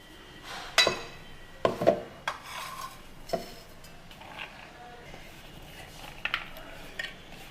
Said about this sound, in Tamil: வாங்க இதை மிக்ஸி ஜாரில் போட்டுக்கலாம்.